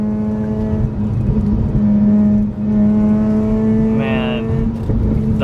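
A Mazda RX-8 rotary engine drones steadily from inside the car while driving, the pitch rising and falling as it accelerates, and someone talks over it.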